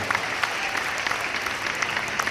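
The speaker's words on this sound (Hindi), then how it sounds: "आपकी तालियां नहीं तालियों का विस्फोट देखना चाहता हूं" Steady, dense applause from a crowd in a pavilion, with many hands clapping at once in a continuous wash of sound.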